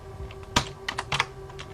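A few quick keystrokes on a computer keyboard while entering a command in a Linux terminal, crisp close clicks in a short irregular burst over a faint steady hum.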